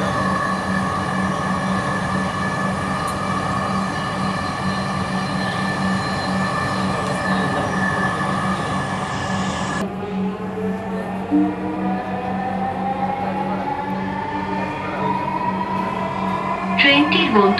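A Dhaka metro train rolls along with a steady, loud mechanical hum and hiss of running carriages. The drone continues throughout, with a sudden shift in tone partway through and faint background voices.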